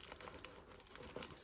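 Crinkling and tearing of packaging from a creator-program goodies parcel being opened slowly by hand, a quiet, continuous papery crackle with a few slightly sharper rips.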